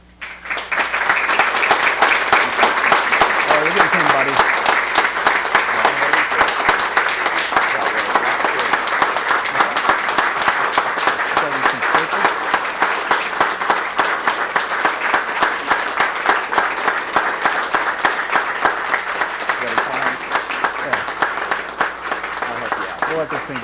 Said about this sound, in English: We'll just keep clapping